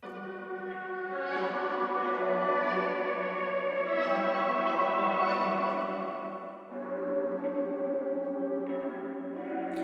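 A sustained, echoey synth-laden beat plays steadily, then briefly dips out for a moment around two-thirds through before surging back in.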